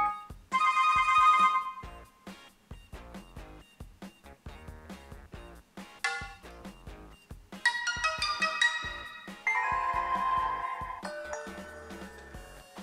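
A standard ringtone melody plays from an Elephone P6000 smartphone speaker, a string of bright, tonal phrases in several short tunes heard one after another, loud and clear with no talking.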